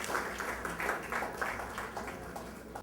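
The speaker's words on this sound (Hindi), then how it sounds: "आपकी तालियों में डॉक्टर शफीक" A mushaira audience applauds as the poet Dr. Shafiq is called to the stage, with moderate, fairly quiet clapping rising and falling in waves over a few seconds.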